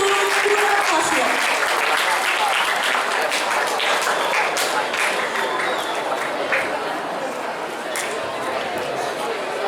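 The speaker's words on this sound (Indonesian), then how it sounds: "Beri tepuk tangan untuk kedua paslon." A school student council election debate audience applauds the two candidate pairs, a sustained burst of clapping from a crowd indoors that gradually thins, with some voices mixed in.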